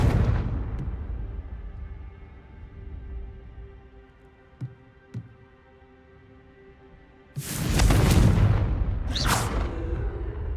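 A Confringo fire blast spell bursting in Hogwarts Legacy: a loud, rushing explosive blast late in the clip with a second flare after it, following a quiet stretch with a couple of short clicks.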